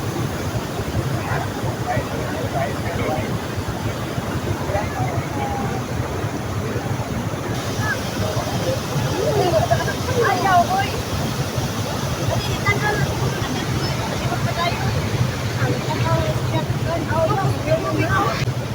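Floodwater rushes steadily over a road in a continuous loud roar during a typhoon near Ormoc City, Leyte, with wind buffeting the microphone and occasional voices underneath.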